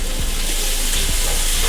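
Peppers and onion are added to a hot pan and sizzle loudly and steadily, with a couple of faint clinks of the utensil.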